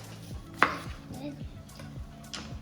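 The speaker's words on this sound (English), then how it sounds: "Chop up our dill" Fresh dill chopped with a knife on a board for a salmon dish, one sharp near knock followed by lighter, softer cutting taps, heard alone.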